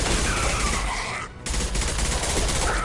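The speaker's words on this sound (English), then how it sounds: "Firing a high-impact shot!" Dense, loud volleys of gunfire rattle almost continuously in the sci-fi shooter Mass Effect, with one brief gap partway through before the barrage resumes.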